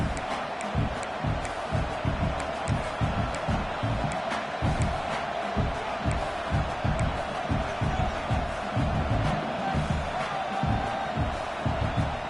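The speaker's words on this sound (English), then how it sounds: "This crowd trying to do its part to get inside the kicker's head." Stadium crowd at a college football game roaring continuously, a dense, loud wash of cheering and yelling with rhythmic stomping or chanting pulses, sustained throughout.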